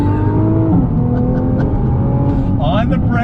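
A 2020 Nissan GTR 50th Anniversary Edition engine pulls on throttle in second gear, a loud, steady interior drone with a shifting pitch and a rising whine near the end, with a voice speaking over it.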